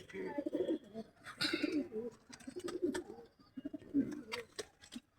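Doves at a nest with eggs give repeated low, soft coos in a steady rhythm, close by and fairly quiet, with a few faint clicks and rustles between calls.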